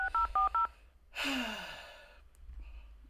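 Telephone keypad tones dial a conference call number: four quick, close beeps in a brisk rhythm, followed by a long audible sigh or breath and faint rustling.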